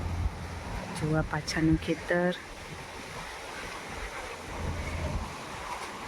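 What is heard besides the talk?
strong gusty wind outdoors near field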